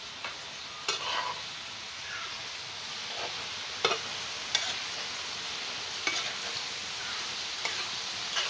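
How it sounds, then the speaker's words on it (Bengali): Water lily stems frying in leftover fish-frying oil, a steady close sizzling hiss punctuated every second or so by sharp clicks and scrapes of a stirring utensil against the pan. "তো এই মাছ ভাজির তেলের মধ্যেই এখন এই যে ইগুলা ভাইজে নিব, শাপলা।"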